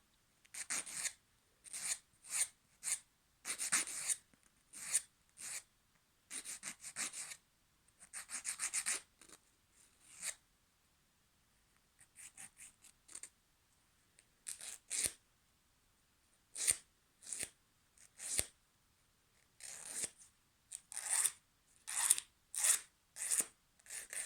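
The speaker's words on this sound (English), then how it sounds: "So I'm filing them oval as I did before." Fingernails being filed into an oval shape during a manicure, with repeated short bursts of rasping strokes separated by brief pauses, close and fairly quiet, no talking.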